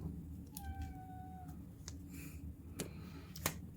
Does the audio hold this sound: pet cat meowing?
yes